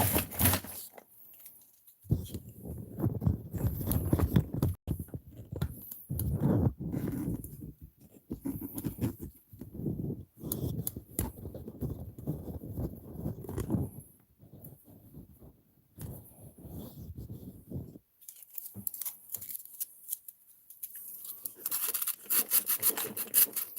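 Rasping, scraping strokes of plastic being trimmed on a Redcat Kaiju V1 RC car battery tray, close and irregular, coming in uneven bursts with short pauses.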